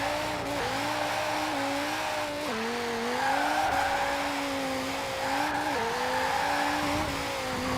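Dodge Viper in Forza Horizon 4, a rear-wheel-drive car with high horsepower, accelerating hard with a loud rising engine roar, gear-shift dips and continuous tire squeal from wheelspin throughout.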